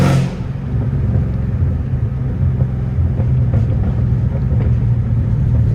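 A catless, supercharged Dodge Hellcat Redeye engine rumbles loud and deep, its low, throbbing exhaust note swelling as the throttle opens and holding a heavy, continuous roar, no talk.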